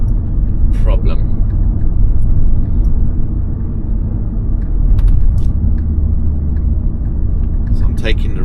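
A car cruising steadily in third gear gives a loud, continuous low engine rumble and road noise from inside the cabin, with brief faint rattles near the start and end.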